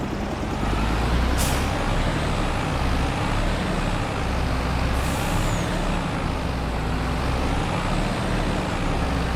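A truck in Farming Simulator 25 runs with a constant loud engine drone, punctuated by two sharp hissing releases from its air brakes, one early and one midway, with no talking.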